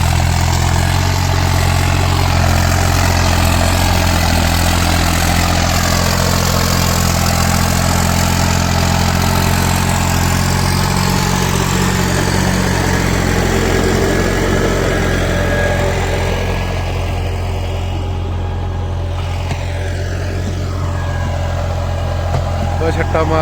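A diesel tractor in a wheat-sowing field runs with a heavy, steady low rumble close by, its throbbing engine going on without a break, with people talking faintly over it.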